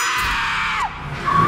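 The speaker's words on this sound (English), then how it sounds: "Is that somebody screaming?" A loud, sustained scream from a horror film, a shrill cry that holds and bends downward, then rises again over background noise.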